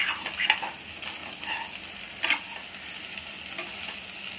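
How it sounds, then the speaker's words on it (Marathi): Ingredients sizzle steadily in hot oil in a pan while being stirred, with close scraping strokes of the spoon and a few sharper crackles. No one speaks. "अशी व्यवस्थित परतून घ्यायची तेलामध्ये"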